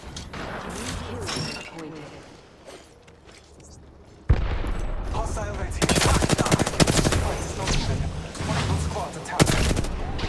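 Rapid bursts of gunfire and heavy booms from a firefight against hostiles, quiet at first and then loud and sustained from about four seconds onward, with a voice talking over it.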